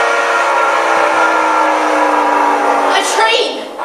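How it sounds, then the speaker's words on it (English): A train rumbles loud and steady in a staged audio drama, with a high whistle rising over the sustained roar near the end. "A train!"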